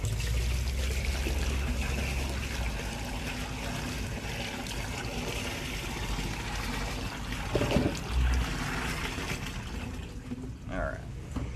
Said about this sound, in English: Just dumped about 5 gallons of water down the line between the two cleanouts there.